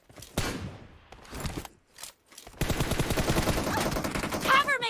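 Gunfire in Battlegrounds Mobile India during a 1v1 team deathmatch: a couple of single shots followed by a sustained rapid automatic burst, close and loud, with a player's voice talking faintly at the start.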